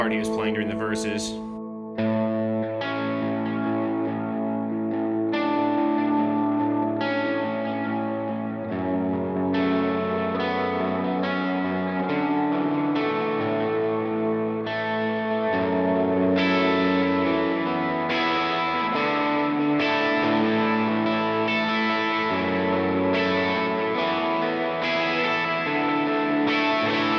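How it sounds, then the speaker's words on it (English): Electric guitar played through a Line 6 Helix with dotted eighth delay, wow-and-flutter modulation and reverb, sounding as a rhythmic chiming part with repeating echoes that wobble slightly, sustained and fairly loud throughout. "I'm just going to turn the wow and flutter way up. So that's what will give us all that modulation."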